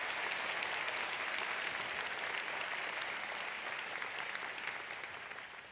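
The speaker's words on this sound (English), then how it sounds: "let's have another round of applause for those doctoral candidates" Steady applause fills a hall at a 2019 School of Information commencement as doctoral candidates are honoured, sustained and even for several seconds but distant and fairly quiet.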